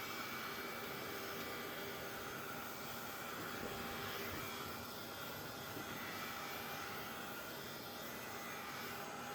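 A handheld dryer drying a thin coat on a crafted envelope, a loud, constant blowing whir that runs unbroken from start to finish with no talk.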